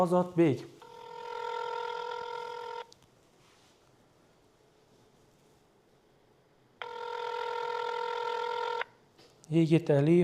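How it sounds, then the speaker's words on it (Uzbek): Two long bursts of a steady electronic phone ringback tone, separated by several seconds of near silence, placed while calling a prize winner; voices talk briefly at the start and end. "yana bir bor telefon qilib ko'ramiz, yana bir bog'lanishga harakat qilamiz azizlar"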